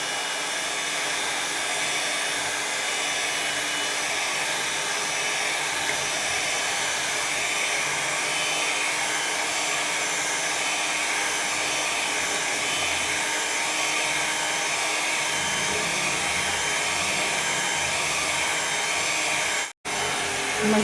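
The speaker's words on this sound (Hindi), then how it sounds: "मज़ीद इसको मैं 2 मिनट के लिए और बीट करूँगी।" Electric hand mixer beating egg yolks for a hot milk butter cake batter, a loud, steady whirring drone that continues without pause, briefly cutting out just before the end.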